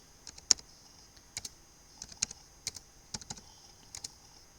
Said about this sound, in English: I'll type few numbers